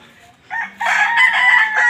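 Chickens at a backyard poultry pen, some of them white birds from Davao: after a quiet start, a close, loud rooster crow rings out and carries on, with clucking mixed in.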